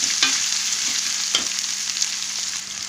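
Onions and fresh coriander fry in oil in a pan with a steady, close sizzle, broken by two sharp spoon knocks against the pan near the start and middle.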